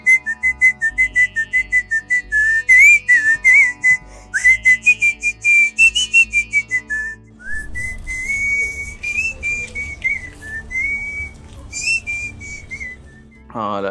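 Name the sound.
woman whistling a song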